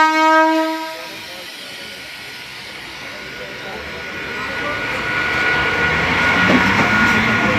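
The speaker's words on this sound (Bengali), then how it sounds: "দেখো ট্রেন ছেড়ে দিল।" A local train from Shantipur to Sealdah leaves the platform at dawn. A horn blares for about a second, then the rumble slowly builds as the train pulls away.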